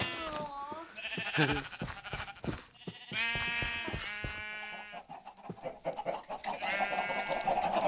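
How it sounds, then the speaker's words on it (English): A busy Minecraft farm full of chickens clucking and sheep bleating in overlapping bursts, game animal sounds repeating close by, loud and constant with no talk over them. "Massive, massive chicken farm. There's too many sheep."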